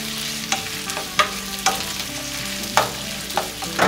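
Radish being stir-fried in perilla oil in a pot at medium-low heat gives soft continuous sizzling, broken by several sharp scraping clicks of a stirring utensil at irregular intervals, with no voices.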